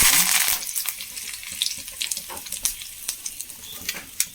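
Mustard seeds crackle and sizzle in hot oil for tempering, with sharp pops scattered over a steady frying hiss, close and fairly loud.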